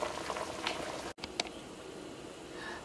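Meat and squash boiling in water in a pot for tchaka, a soft continuous bubbling and simmer, quiet and close, with a brief clunk partway through and no speech.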